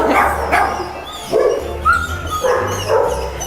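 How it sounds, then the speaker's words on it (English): Several dogs bark and yip in repeated bursts at a dog shelter, close and loud, with a brief whimper between barks and no talking. "now we're gonna go visit the dogs, and it's gonna be really noisy"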